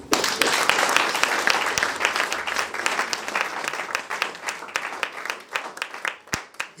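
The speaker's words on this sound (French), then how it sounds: "On acclame le Seigneur." Applause from a congregation during a church service, a loud burst of clapping that thins into scattered individual claps, with some voices mixed in.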